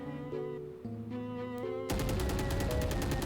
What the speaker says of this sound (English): you remember that time you tried to fire at the enemy? Yeah, now try it again.